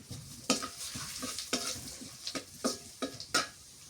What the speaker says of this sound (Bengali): পেঁয়াজ ভাজা হয়ে গেছে